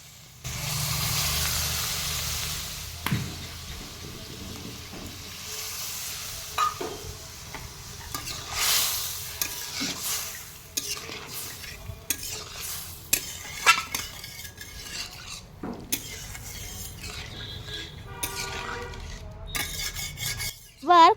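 Fish curry masala with vegetables being stirred in a pan after water is added, with a light sizzle and repeated scraping and clinks of a spatula against the pot, fairly close.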